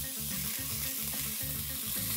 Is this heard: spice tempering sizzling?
yes